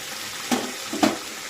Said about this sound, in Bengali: এই মশলা একদম কষে গেছে, ছিটছে